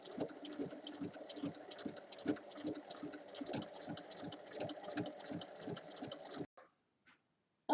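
A sewing machine stitching a long straight seam through fabric, its quiet, steady needle beat pulsing evenly before it stops, leaving near silence with a faint click.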